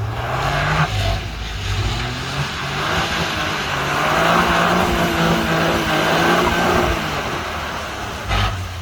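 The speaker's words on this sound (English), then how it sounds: "You can hear like that horrible ABS noise" A Toyota GR Yaris drifting while its ABS and traction control intervene. The engine drones loudly and shifts in pitch, with a gritty, buzzing mechanical edge and faint tire noise over a continuous roar.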